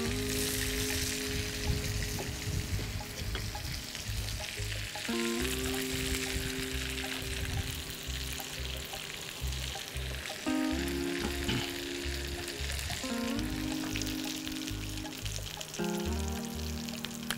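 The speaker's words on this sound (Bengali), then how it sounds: "দর্শক আমার ঘি তেলটা গরম হয়ে গেছে, আমি এখন ফিশটা দিয়ে দিব।" Pomfret fish fries in hot ghee with a loud, sustained sizzle and crackle that runs unbroken for many seconds beneath steady tonal humming, with no one talking.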